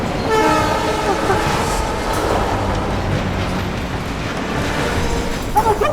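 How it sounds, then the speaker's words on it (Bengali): A train rushes close and fast, its horn blaring in long harmonic blasts over a loud, steady rumbling roar that fills the whole stretch. "খুব জোরে আসছে ট্রেনটা।"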